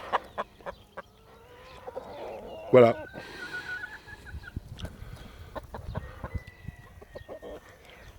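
Laying hens clucking softly in the background with scattered bird chirps, while a person speaks briefly nearby.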